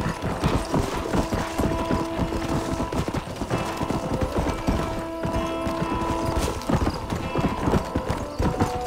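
Rapid clip-clop of horse hooves in Red Dead Redemption, steady and close, with several horses' hoofbeats overlapping against a busy background of game sounds.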